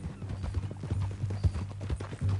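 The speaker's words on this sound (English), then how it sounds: "That new horse?" Horse hooves clip-clopping in Red Dead Redemption 2, a steady walking rhythm of clear, close hoof strikes over a low ambient rumble, with no voices.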